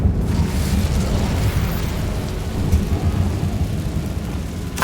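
An Incendio fire spell cast in the Hogwarts Legacy video game gives a loud, steady, roaring rumble that fills the whole stretch without pause, deep and dense like a sustained blaze of flame with no voices over it.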